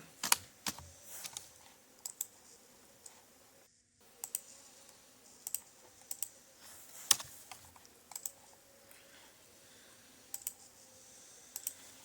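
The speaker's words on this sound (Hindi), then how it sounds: "अब हमें करनी है कंटिन्यूअस टाइपिंग।" Continuous typing on a computer keyboard in bottom-row practice, an uneven run of close, crisp key clicks with louder spacebar-like thumps scattered throughout, briefly pausing once, no talking.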